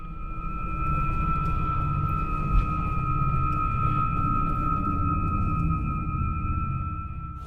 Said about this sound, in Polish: Muza taka jakaś psychodelia, jeżeli słyszycie w tle